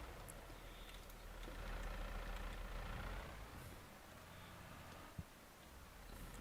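A tractor engine in Farming Simulator 22 holds a steady, moderate rumble that swells slightly midway and then settles, with one sharp click near the end and no voices.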